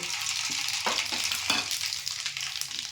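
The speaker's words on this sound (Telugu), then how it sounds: "నూనె బాగా వేడెక్కినాక అందులోనే ఆవాలు," Mustard seeds fry in hot peanut oil with a close, continuous sizzle broken by scattered sharp pops and crackles, with no voices.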